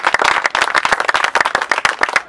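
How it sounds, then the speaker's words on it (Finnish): A sports team applauding themselves, sharp rapid claps from a small group, close and loud for a couple of seconds. "Voidaan antaa aplodit itsellemme"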